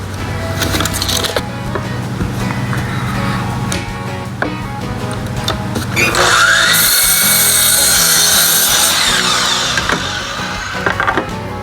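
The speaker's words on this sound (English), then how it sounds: "We're going to start straightening up the ends and getting them cut down to the right length and width" A power tool cutting planed wooden boards to length, with a loud close whine and a grinding cut swelling midway, over workshop clatter and handling noise.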